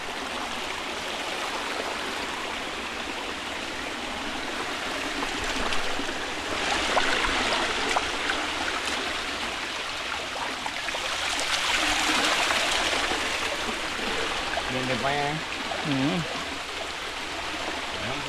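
A small river or stream near Maroon Town and Moore Town, Jamaica, flows with a continuous rushing, splashing wash, fairly close, while a few faint voices and brief sounds surface near the end.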